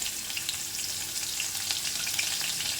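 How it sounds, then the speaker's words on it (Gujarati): Mustard seeds, cumin, asafoetida and chopped green chillies crackle in hot oil for a Gujarati tindora shaak, a fine, continuous sizzle at moderate level with tiny pops and no voices. "તેલ સરસ ગરમ થઈ ગયું છે. આપણે અડધી ચમચી રાઈ, અડધી ચમચી જેટલું જીરું, ચપટી હિંગ, 2 લીલા મરચાં સમારેલા,"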